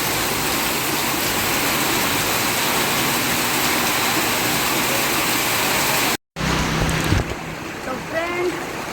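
Heavy monsoon rain roars as a dense, steady hiss that fills the first six seconds. After a brief cut, the rain continues more faintly under scattered movement and a few voiced sounds.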